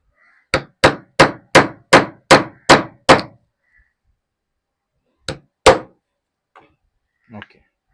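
Knife being tapped to split open a glued wooden fishing lure body, heard as seven sharp, evenly spaced knocks in quick succession, then two more separated strikes and a few faint clicks.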